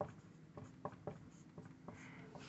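Chalk or marker strokes on a board during a C programming lecture: a run of short, scratchy taps and strokes close up, with quick pauses between them and no talking.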